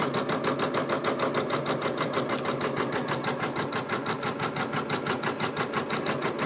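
Janome embroidery machine, an MB4-type multi-needle model, stitching a quilt-in-the-hoop appliqué block, giving a steady, rapid mechanical chatter of even needle strokes throughout, close and uninterrupted, with no talking.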